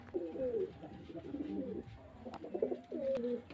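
Pigeons cooing up close at a home pigeon sale, several soft throaty coos in short rolling bursts with brief pauses between.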